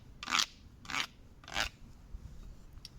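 A stick run along the ridged back of a wooden frog stick rasp, three distinct rasping croaks in steady rhythm, close and clear in an otherwise quiet space.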